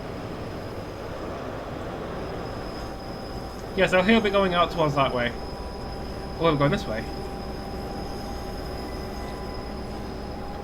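An MTU-engined Class 43 train in Train Sim 2020, a steady low diesel drone and rail rumble with a constant high whine running unbroken underneath, while someone talks briefly in two short bursts over it.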